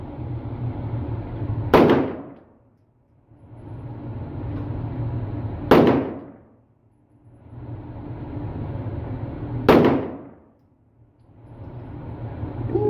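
A 300 Blackout rifle fires three loud, evenly spaced shots at a gun range, each a sharp crack with a ringing tail, over a steady low rumble of background noise.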